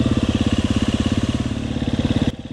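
KTM 350 dirt bike engine chugs at low revs on soft, wet, boggy ground, a loud close pulsing beat that drops away abruptly near the end.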